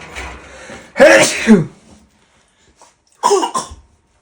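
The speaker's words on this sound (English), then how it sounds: "I sneezed, I didn't cough." A single sharp sneeze bursts out close to the mic, followed by a brief pause and a second explosive sneeze-like burst.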